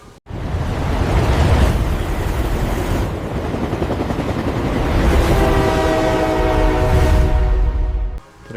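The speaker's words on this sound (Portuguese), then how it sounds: "O trenzão tá chegando." A heavy train rumbles into a station in Arcos, Minas Gerais, close and loud, a steady roar of engine and wheels that holds for several seconds before cutting off.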